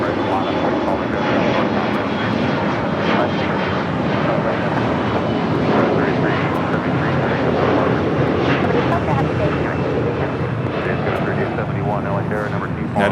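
A fixed-wing airplane roars steadily at Los Angeles International Airport, a broad, continuous engine rumble heard fairly near, with voices speaking under the noise throughout.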